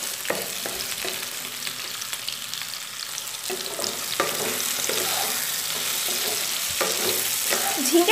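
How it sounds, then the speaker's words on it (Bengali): Sliced ridge gourd fries in a pan, giving a continuous close sizzle with scattered clicks and scrapes of stirring and no talking. "নাড়াচাড়া করে ঝিঙ্গেটাকে 1-2 মিনিটের মতো একটু ভাজা ভাজা করে নেব।"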